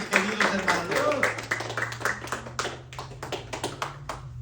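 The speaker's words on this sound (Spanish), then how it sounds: "denle un aplauso al Señor, pero con todas sus ganas" Church congregation clapping for the Lord in a dense patter of handclaps, loud at first and thinning slightly, with voices and a low hum running underneath.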